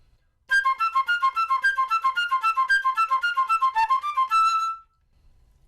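Irish flute playing the opening melody of the piece Lughnasa, a clear solo line of quick, evenly articulated notes lasting about four seconds, close and alone in a quiet room.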